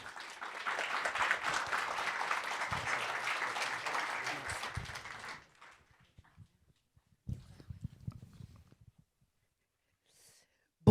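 An audience at a French-language conference day gives a dense burst of clapping for about five seconds, then it fades into scattered rustling and a few faint knocks in a quiet room.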